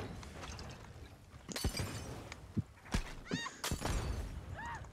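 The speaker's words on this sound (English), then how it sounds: "Wait, was that my horse or your horse?" A horse in Red Dead Online lets out a couple of short neighs and whinnies. Sharp crashes and thuds come in between them, with some hoofbeats under the busy game noise, and no one talks.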